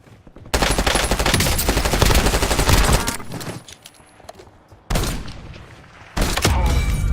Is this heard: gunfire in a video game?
yes